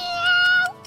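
A person loudly imitates a cat with one long, nasal meow that slides down at the end, heard close with no other sounds.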